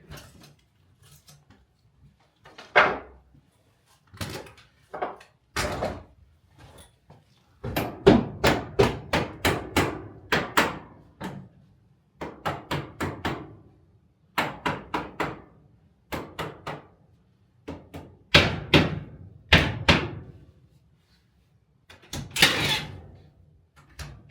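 A makeshift latch is pried and knocked out of an off-grid cabin door in a series of sharp wooden knocks, taps and creaks, close and irregular, with quiet gaps between bursts.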